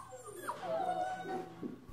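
Six-week-old guide-dog puppies whimper and yip softly in a short, close, high-pitched whine that rises and falls, with no talk.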